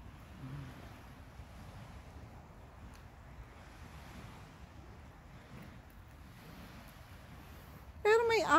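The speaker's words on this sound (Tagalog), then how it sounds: "Pero may alon. Bakit may alon?" Waves wash along the shore of Lake Tahoe on a cold November day, a soft, continuous surf hiss mixed with wind buffeting the microphone, and a voice comes in briefly at the end.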